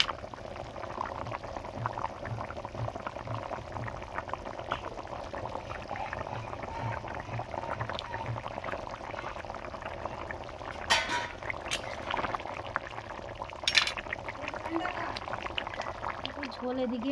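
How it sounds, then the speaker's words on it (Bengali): Hilsa fish curry broth with potatoes and black cumin boils steadily in a pot, giving a low, continuous bubbling hiss throughout with a few brief clicks and clatters from the kitchen. "দেখো ঝোল খুব ভালোভাবে ফুটে গেছে।"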